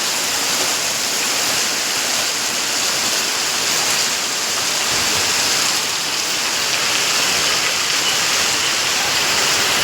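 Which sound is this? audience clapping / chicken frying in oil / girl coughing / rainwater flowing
rainwater flowing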